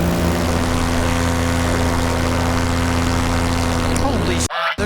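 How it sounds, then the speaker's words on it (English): A propeller airplane buzzing low over a castle, heard as a steady loud droning engine tone throughout, close and dominant, cutting off abruptly near the end. "there's an airplane down there. Look at that guy. He's buzzing the damn castle."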